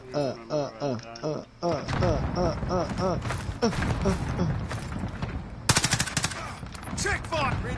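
Rapid gunfire rattles in bursts in a shooter video game, loud bursts broken by short pauses, with people talking over the shooting.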